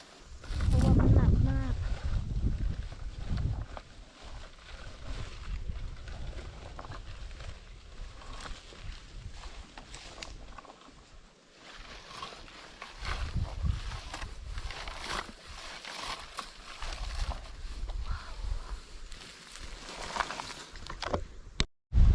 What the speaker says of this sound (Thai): ลมก็มาอีกแล้ว